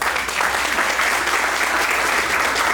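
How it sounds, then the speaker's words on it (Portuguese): Audience applause at an outdoor civic gathering at a railway station square, a dense steady burst of many hands clapping close and loud throughout with no talk over it. "bem-vindos, uma salva de palmas."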